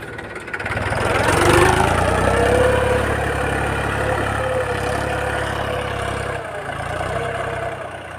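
An old tractor's engine running steadily at a low, rumbling idle nearby on a farm, a continuous throbbing drone with slight swells in loudness.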